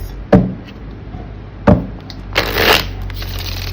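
Tarot cards shuffled in short bursts: two sharp riffling snaps followed by a longer, brighter flutter of cards, close and fairly loud with no talking.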